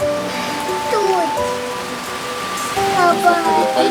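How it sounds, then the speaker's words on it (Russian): Steady rain falls throughout while a young child and an adult talk in Russian over it. "Ты пойдешь под дождик"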